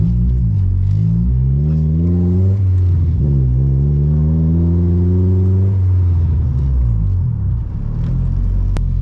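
A 1990s Honda Accord with an H22 engine pulls through the gears while driving, its engine note climbing steadily, dropping at each shift and climbing again, close and loud over a low rumble, with no talking.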